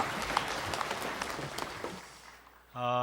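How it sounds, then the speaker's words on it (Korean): Church congregation claps during a worship service, a steady spread of applause that tapers off and ends, followed by a sustained tone. "박수를 안겨드리겠습니다."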